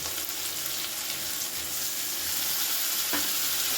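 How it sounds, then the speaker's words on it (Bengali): A spice paste of ginger, coriander, chilli powder and turmeric, loosened with a little water, sautés over a low gas flame, giving a steady close sizzle with one brief clink near the end. "এবারে গ্যাসের ফ্লেমটাকে একদম লোতে করে আমি এই মশলাটা একটু কষিয়ে নেব"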